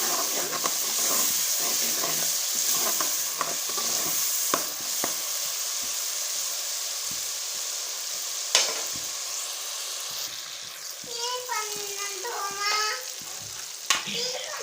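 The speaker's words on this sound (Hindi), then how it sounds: "अभी हमने टमाटर की पकाई करनी है।" Tomatoes cooking for a fish curry, a soft continuous sizzle in the pan with scraping strokes from stirring, faint and close, and a brief high wavering sound near the end.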